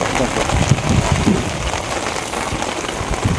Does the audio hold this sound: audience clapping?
no